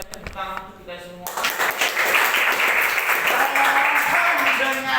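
Classroom applause at a school teaching-practice session breaks out after a brief stretch of speech, then a sustained round of clapping from the group continues to the end, with some voices mixed underneath.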